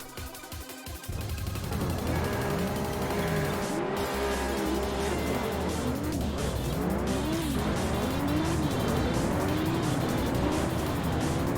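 Honda NSX racing in the Juiced video game, a loud, sustained engine drone with rising and falling gear-change sweeps and tyre squeal, steady and close throughout with no talk.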